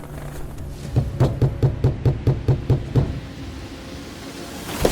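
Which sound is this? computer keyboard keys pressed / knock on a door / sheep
knock on a door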